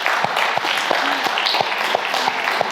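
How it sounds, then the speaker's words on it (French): Sustained applause from an audience in a hall welcoming the mayor of L'Île-Saint-Denis, a dense steady wash of clapping holding at even loudness throughout with a few sharper claps standing out. "Je vous demande d'applaudir le maire de l'île de Saint-Denis"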